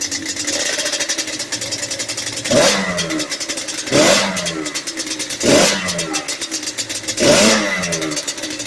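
A rebuilt Yamaha Banshee 350 two-stroke engine runs steadily near the mic, with loud rev blips recurring about every one and a half seconds over a continuous buzzing idle.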